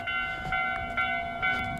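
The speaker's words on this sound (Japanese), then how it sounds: "来た来た近鉄特急でした" A Kintetsu limited express train passes a station in Mie Prefecture with a loud rolling rumble and sustained tonal whine, broken by several short rhythmic clatters of the cars going by.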